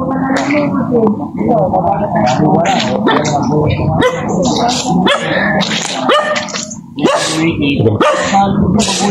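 A dog barks repeatedly and yips close by, loud and persistent, with people talking over it.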